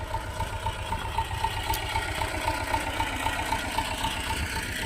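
An old T-25 tractor engine idles steadily on a winter day, started for the first time in 2026, with a close, continuous low diesel chug and a rapid even knock throughout, no voices.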